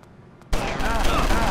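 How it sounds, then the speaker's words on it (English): Submachine gun fire in the video game LA Cops: a quiet lead-in, then a sudden loud burst of rapid continuous shots that keeps going to the end. "You had a bloody submachine gun."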